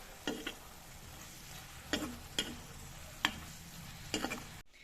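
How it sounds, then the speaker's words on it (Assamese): Lai saag mustard greens stir-fry in a pan with a quiet steady sizzle and a handful of spaced spatula clacks and scrapes, close but faint. "এইটো আমাৰ লাই শাক ভাজি হৈছে"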